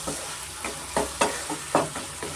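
Garlic chicken sizzling in a pan over a medium flame while being stirred, a steady close fry broken by several quick scraping stirs, no voices.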